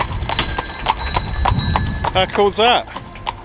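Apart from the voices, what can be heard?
horse and cart hooves clip-clopping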